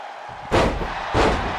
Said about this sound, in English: Brandon Banks with a fall away slam